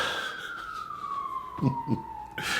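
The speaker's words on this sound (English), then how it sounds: "Oh, sirens are coming to report this movie." A siren wails in a slowly falling tone, faint and distant, with a few brief background sounds near the end.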